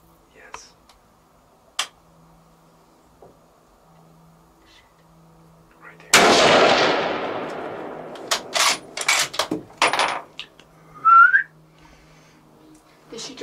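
A hunting gunshot rings out loudly and decays into a long rumbling echo, followed by several sharp clicks and knocks that sound like reloading, with a brief whistle-like tone near the end and a faint earlier tap.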